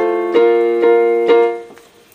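A piano plays a short passage from a song: a few soft repeated chords struck in an even, unhurried rhythm, ringing close and clear before fading out.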